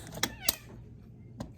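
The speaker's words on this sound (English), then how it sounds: "He says meow." A pet cat meows indoors, a few short close calls spaced apart, with no talking over them.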